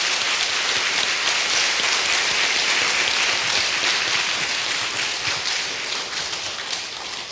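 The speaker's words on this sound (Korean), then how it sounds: "다시 한번 큰 감사의 박수로 모시겠습니다." Loud, sustained applause from an audience welcoming a speaker at an indoor gathering, a dense continuous patter of many hands that thins slightly near the end.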